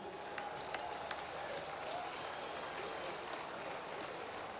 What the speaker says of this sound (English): give our sponsors a big round of applause and to the Queen of the Wool